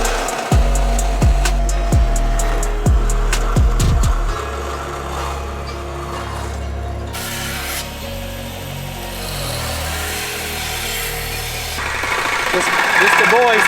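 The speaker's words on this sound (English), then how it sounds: "So, to the bandsaw we go." A bandsaw cuts through a part for a radiator in a 13B rotary-powered Datsun's cooling system, several loud rasping strokes at first, then a steady machine drone with a voice speaking over it.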